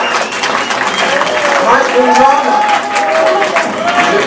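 Audience applause with cheering from a live French crowd, clapping steady and full throughout while a host's voice talks over it.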